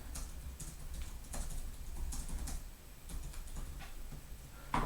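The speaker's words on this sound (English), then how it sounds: "I'm already doing bad typing" Soft, quiet clicking of keys on a computer keyboard in irregular bursts, heard alone at low level against faint background hiss.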